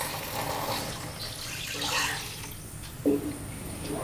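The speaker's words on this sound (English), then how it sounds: "add little bit of water" Water is poured into bubbling masala in a cooking pot, a steady wash of liquid noise with a brief splash near the end, fairly quiet.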